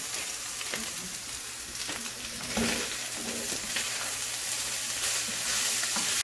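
Pork empanada filling with peas sizzles steadily in a frying pan while a utensil scrapes and stirs through it, the frying hiss continuous and close throughout, with no talking.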